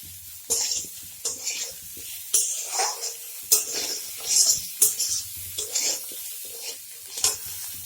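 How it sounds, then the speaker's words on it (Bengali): Spices stirred and frying in a pan, with repeated scraping stirs over a soft sizzle, close and fairly quiet, during preparation of a vegetarian taro (kochu) dish. "দেখুন কি সুন্দর ভাজা হয়েছে।"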